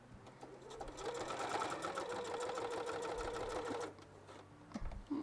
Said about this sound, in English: So this is not my regular sewing machine.